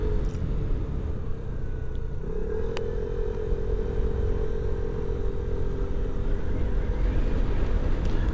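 A Vespa GTS 125 scooter rides through a roundabout, its small engine droning steadily under loud, constant wind buffeting, with the engine tone shifting slightly as it leans through the curve.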